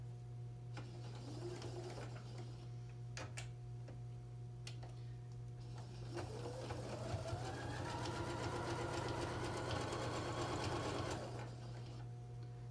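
A sewing machine runs a back stitch along an exposed pillowcase seam: a few sharp clicks first, then a steady mechanical whirr of stitching that runs for several seconds before stopping, quiet and close.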